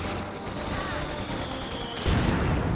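Battle sounds from Company of Heroes 2, with a 120mm mortar and gunfire making a dense, continuous rumble of overlapping shots and a heavier boom near the end.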